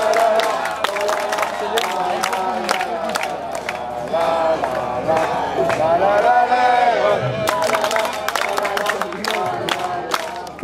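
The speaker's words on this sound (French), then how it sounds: "on les applaudit très fort" A crowd at a quad endurance race in Quincey applauds and cheers, a loud continuous roar with sharp clapping throughout and raised voices shouting over it.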